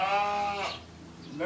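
A sheep bleats on a farm during spring shearing season, one long wavering bleat up close followed by a shorter rising call near the end, with no talk.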